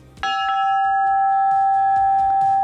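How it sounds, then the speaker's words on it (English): A loud bell strikes once and keeps ringing with a steady sustained tone, while softer knocks and clanks sound underneath. "they ring this bell right back."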